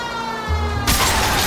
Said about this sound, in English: So you don't hear my siren.